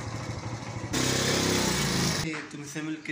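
A motorcycle engine revs loud and close for about a second as the bike is pushed in through a gate at night, then drops to a rougher idle with a person talking briefly over it.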